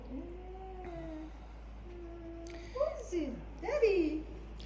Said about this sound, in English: there's another cat there. That cat doesn't know me, so it's probably going to freak out.